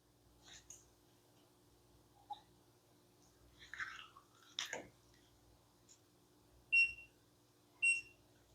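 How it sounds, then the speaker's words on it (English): Two short high electronic beeps sound about a second apart near the end, after scattered soft clicks and knocks in a quiet room while resin is mixed and poured into a mold. "Hearing beeps."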